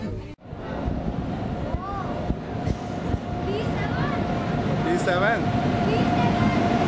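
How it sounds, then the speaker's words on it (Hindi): A passenger express train on the Kota to Indore rail route rumbles steadily in the background with wind noise, while someone talks over it close to the microphone. "ये हमारी ट्रेन।"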